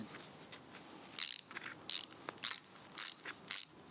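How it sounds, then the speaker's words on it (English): A hand ratchet loosens the bolts holding the camshaft of an old rusty engine, giving five short loud bursts of rapid metallic clicking at a steady pace, close up with no talking. "This is the camshaft held in place by 2 bolts and a truss washer. So I'm going to remove this"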